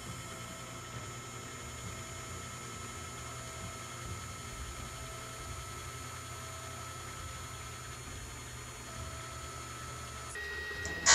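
An ACE KISS 104 selective soldering machine runs with a steady mechanical hum and faint whirring tones, even and unbroken, ending in a sharp click.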